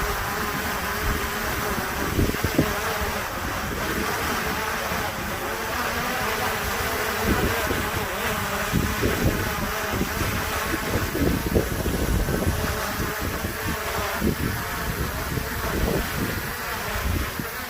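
A DJI Mini 3 Pro drone flying in wind, a steady high whine of small propellers with gusty buffeting rumble beneath, holding at a moderate distance throughout without voices.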